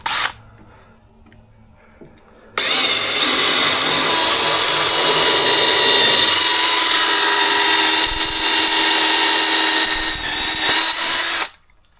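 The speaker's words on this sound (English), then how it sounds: "Take your drill." Power drill boring a hole for a homemade camera mount, whining steadily at full speed for about nine seconds after a quiet start, close and loud, then stopping abruptly.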